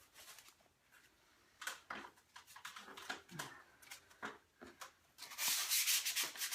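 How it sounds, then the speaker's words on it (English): Short, scratchy strokes of hand sanding along the edges of a repaired plaster ceiling, irregular bursts growing louder and more continuous near the end. "now for a little bit of hand sanding around the edges"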